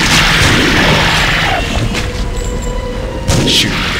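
Loud booming gunshots and impacts in TimeSplitters: Future Perfect during a boss fight, heavy blasts at the start and a sharp burst near the end, with game noise in between.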